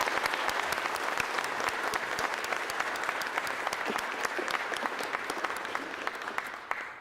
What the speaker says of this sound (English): Tracy, ladies and gentlemen, a round of applause.